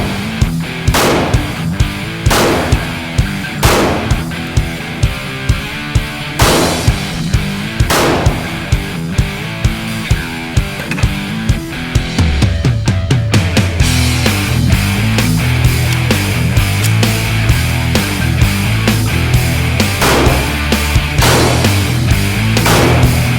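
A Springfield Range Officer 1911 pistol fires a string of loud, close shots at a shooting range, evenly spaced at first, then merging into denser, overlapping gunfire later on.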